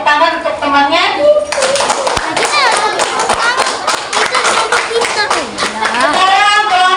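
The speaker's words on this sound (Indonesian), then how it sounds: "Tepuk tangan untuk temannya" Schoolchildren in a classroom clap together for a classmate, a quick run of sharp claps heard alongside the chatter and speech of young voices, with the clapping close and fairly loud.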